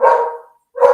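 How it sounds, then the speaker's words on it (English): A dog barks at a rabbit, two loud, close barks separated by a brief silence. "That's my dog seeing a rabbit."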